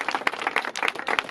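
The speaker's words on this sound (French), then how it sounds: "Je voudrais que vous applaudissiez tous pour l'ONG RSD" An audience at a handisport and inapt-students championship at a technical high school claps briefly. The hand claps are quick and scattered, with moderate density and fairly close.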